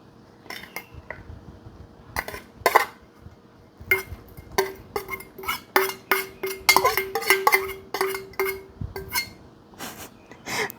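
A spoon clinks and scrapes against a bowl while spicy canned fish salad with chopped shallots and coriander is tossed together, giving irregular bursts of metallic tapping and clatter, close and fairly loud against a quiet background.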